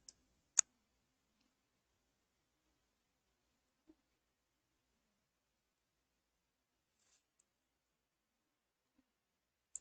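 Sparse, isolated computer mouse clicks in a near-silent room, with two sharp clicks at the start and end and a few fainter ticks scattered between.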